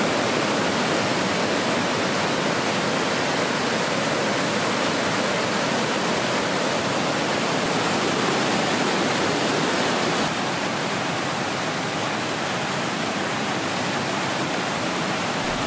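Vazhachal waterfall roars as a steady, dense, loud rush of falling water that never lets up, close and alone with no voices, and a thin high whine joins partway through.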